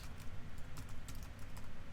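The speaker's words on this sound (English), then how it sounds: "having some trouble typing here tonight" Rapid clicking of a computer keyboard while writing Python code, a steady dense patter of keystrokes close to the microphone with no voices.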